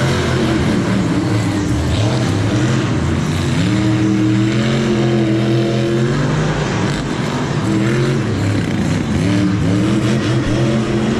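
A Monster Jam truck engine at MetLife Stadium, running rough in muddy conditions, roars loud and continuous with uneven revving swells and dips over crowd and arena noise.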